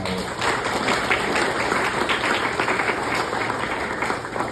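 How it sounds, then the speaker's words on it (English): Steady applause from an audience, a dense wash of many hands clapping that holds at an even level throughout. "Round of applause for them too."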